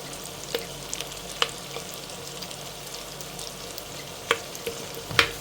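Small onions sautéing in oil in a clay pot give a soft, steady sizzle, fairly quiet, with a few scattered clicks and stirring knocks and no talk.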